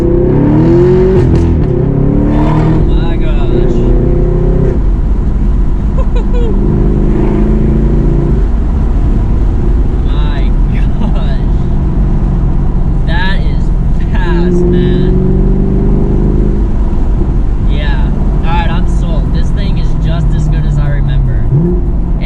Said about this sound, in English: you guys can probably hear it. I'm like over revving.